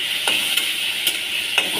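Chicken frying in a pan on a home kitchen stove gives a steady, close sizzle, with a few soft stirring or scraping knocks spaced through it. No one talks.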